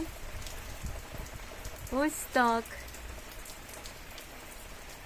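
Steady May rain pours outside a house in rural Ukraine, an even, dense patter on surfaces filling the whole scene, with a voice briefly speaking over it midway.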